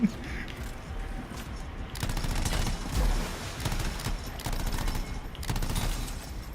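Automatic weapon fire in the Anthem video game, a rapid sustained burst of shots that runs steadily for several seconds, loud and continuous with brief pauses, with a voice talking over it.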